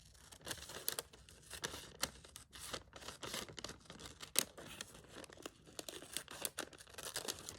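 Fabric being cut out for a slow-stitch Nutcracker piece, with quiet, irregular snips and rustling crinkles repeating close by, with no talk.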